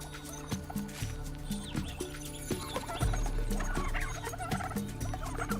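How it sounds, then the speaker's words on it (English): Australian brush turkeys call repeatedly in a busy outdoor setting, with gobbling, clucking notes rising over a steady, dense background of ambient noise and no talk. "Brush turkeys are vulnerable and only defend themselves when in grave danger."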